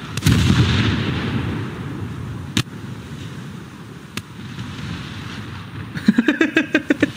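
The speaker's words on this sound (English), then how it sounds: "Why does my secondary sound like a BB gun for a moment?" Secondary guns firing aboard the cruiser Leipzig in War Thunder, a few sharp isolated cracks over a steady rumble, then a quick rapid string of light popping shots at the end.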